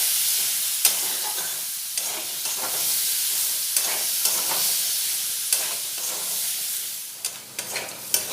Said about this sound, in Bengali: হলুদ পাউডার দিয়ে ভালোভাবে ভেজে নেব।